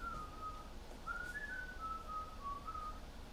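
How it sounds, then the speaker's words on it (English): A person whistles a song tune alone in a quiet room, with clear, steady, melodic notes carrying on for several seconds at a soft level. "I just kept whistling every day"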